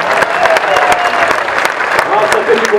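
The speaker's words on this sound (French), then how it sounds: "Merci d'applaudir l'Allemande Franziska Brosch." A crowd at the start of the women's Tour de France in La Gacilly applauds a German cyclist, with loud, continuous clapping and scattered sharp claps while an announcer talks over it.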